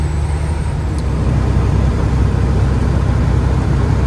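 A semi truck rolls along the road, its low engine rumble and road drone steady and loud from inside the cab, with a faint high whine early on.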